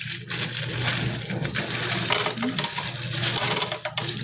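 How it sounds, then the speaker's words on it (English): Frozen green beans rattling and clattering as they pour into a pot of rice and water on the stove, a dense close shower of small hard pieces lasting a few seconds. "we're going to add some frozen green beans"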